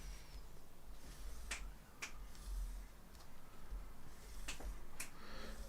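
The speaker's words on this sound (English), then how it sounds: "that's him clicking his fingers and dancing." Fingers click in the background while someone dances: a handful of faint, crisp snaps at irregular intervals, soft and slightly distant in a quiet indoor room.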